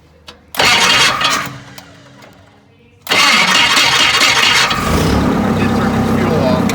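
A Yale forklift engine that sat for 20 years cranks and catches, then settles into a loud, steady running idle after a short pause and restart; voices are heard in the background.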